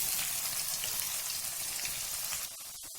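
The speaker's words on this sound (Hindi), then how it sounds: "साथ ही हम इसमें ऑनियन डाल देंगे और इसको मीडियम ब्राउन होने तक फ्राई करेंगे।" Onions frying in oil in a pan until medium brown, giving a loud, steady hiss and crackle that drops off near the end with a few soft clicks.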